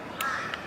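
A crow caws nearby, one short harsh call followed by a fainter second note, standing alone over a quiet background.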